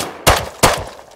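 Gunfire in the survival game Rust; two sharp, loud shots a fraction of a second apart, each with a short ringing decay.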